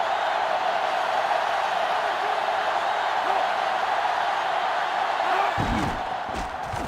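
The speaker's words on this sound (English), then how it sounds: "this crowd is going absolutely insane" A stadium crowd in the NCAA Football 2005 video game roars loudly and steadily, a dense, continuous wash of noise that eases slightly near the end, where a few low thuds break through.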